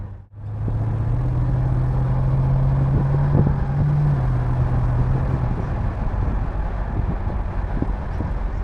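Mercedes CLK500 V8 engine and exhaust hum steadily at close range, a low droning tone that holds for several seconds before easing into a quieter, rumbling idle with faint wind noise.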